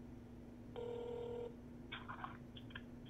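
Phone dialing tones from a phone in the racing video game Need for Speed Undercover: one steady tone followed by a quick run of short beeps, faint over a low background hum, with no talk.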